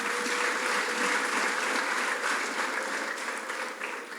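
An audience at a church ceremony for new CEP leaders at a Rusizi campus breaks into steady, dense applause that holds throughout and fades slightly at the end.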